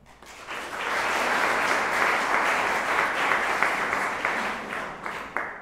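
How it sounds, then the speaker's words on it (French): An audience at a festival film premiere in Bukavu applauds for the stage managers and partners. The clapping is a broad, sustained wash that swells quickly, holds steady for several seconds and then thins out. "je vais vous demander à la fois d'applaudir pour les régisseurs, mais aussi pour les partenaires du festival Zéro Polémique"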